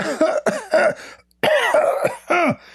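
A voice imitates coughing up close, a string of loud, harsh hacking coughs in two bursts with a brief silence between them.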